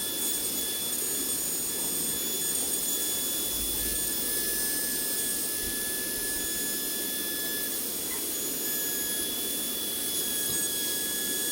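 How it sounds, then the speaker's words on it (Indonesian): A CNC machine mills a PCB in a workshop, a steady high-pitched spindle whine with sustained tonal squeal and constant mechanical hiss, unchanging for the whole stretch. "bagaimana mesin CNC membuat PCB."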